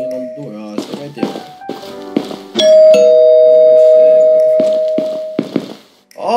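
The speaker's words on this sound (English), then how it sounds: "Ringing on the door." Doorbell in a Pou horror video game, a clear two-tone chime that rings out and sustains for a few seconds, preceded and followed by soft taps and thumps, with a voice talking nearby.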